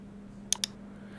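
Two quick keystrokes on a computer keyboard, crisp and close, sounding about a tenth of a second apart over a faint steady hum in an otherwise quiet room.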